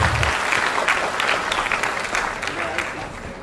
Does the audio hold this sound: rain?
no